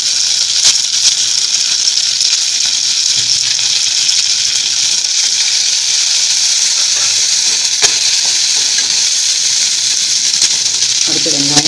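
Green chili, ginger and curry leaves fry in hot oil for potato bonda filling, giving a loud, steady crackling sizzle that runs continuously from start to finish.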